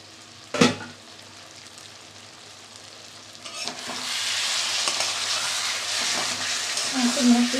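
Spice masala sizzles and gets stirred in a pan while cooking a fresh hilsa fish curry; a sharp clank opens, then quieter frying builds into a steady, louder sizzle with occasional scraping.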